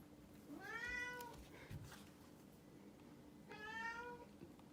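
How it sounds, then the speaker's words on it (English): Indoor cat meowing twice, two clear drawn-out meows about three seconds apart, fairly close against a quiet room background. "I'm sorry, that's my cat."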